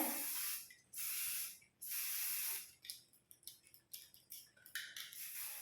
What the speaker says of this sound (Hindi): हमें इन वाले हेयर को स्प्रे कर लेना है